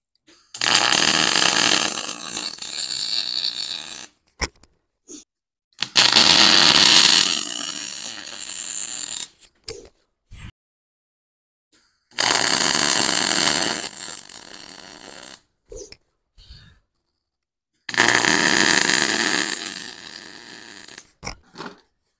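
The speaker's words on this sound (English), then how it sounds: "So get the other one welded up." Welding on steel tubing for a Harbor Freight tubing roller upgrade, four long, loud buzzing, crackling bursts of several seconds each, separated by near-silent gaps.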